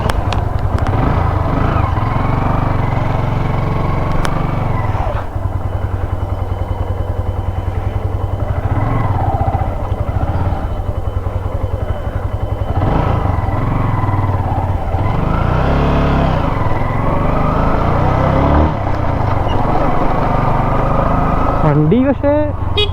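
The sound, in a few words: motorcycle engine running after starting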